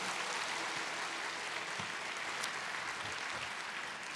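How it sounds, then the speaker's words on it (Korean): Church congregation in a large sanctuary clapping together in a sustained round of applause, dense and steady and somewhat distant, at a church festival service. "오늘의 기쁨을 허락하신 하나님께 다시 한번 영광의 박수 올리겠습니다."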